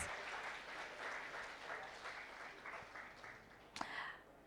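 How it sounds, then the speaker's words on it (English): An audience at a panel discussion on diversity and inclusion applauds, a dense even patter of many hands clapping that slowly thins, with one sharp louder clap near the end. "give a huge round of applause to yourselves"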